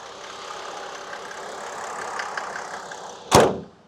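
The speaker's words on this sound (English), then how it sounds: "So this is the OM606 truck heading up the road." A diesel-swapped 1997 Europa G300 truck with an OM606 turbo diesel engine drives up a road, its engine droning steadily from inside the cab before a single sharp knock or thump near the end.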